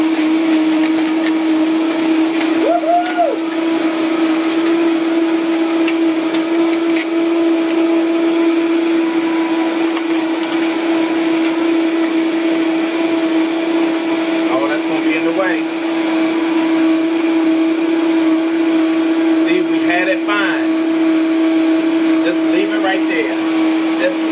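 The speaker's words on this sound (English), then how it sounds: "I'm going to turn on the blender. Move that on high for about a minute" A kitchen blender running on high at breakfast, a loud steady motor whine with a strong sustained hum throughout, close by.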